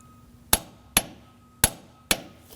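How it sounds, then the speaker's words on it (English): Torque wrench tightening an upstream O2 sensor on a 2007-2013 BMW 328i 3.0L inline-six to 36 foot-pounds: four sharp, close metallic clicks spaced about half a second apart, with no talk. "we're going to torque this to 36 foot-pounds"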